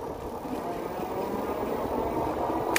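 A Himiway electric bike motor hums smoothly and evenly under steady road noise, with no breaks or changes in pitch.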